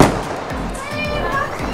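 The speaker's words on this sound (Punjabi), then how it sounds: "ਹੁਣ ਇਹ ਪਟਾਕੇ ਚਲਾਉਣ ਲੱਗੇ ਬਣਾਵਾਂਗੇ ਜੀ ਵੀਡੀਓ।" Diwali firecrackers crackle and pop in a dense, continuous burst close by, with a whistling rocket rising through the noise and children's voices mixed in throughout.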